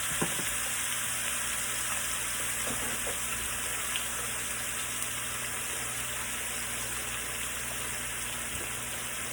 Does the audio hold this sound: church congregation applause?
no